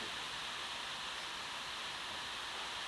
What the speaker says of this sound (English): if you can hear that rain on the roof, it's just started raining again